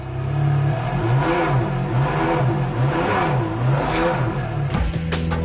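A Ferrari Enzo engine revs loudly and close, its pitch rising and falling in repeated swells over a steady mechanical drone, then dropping off sharply near the end.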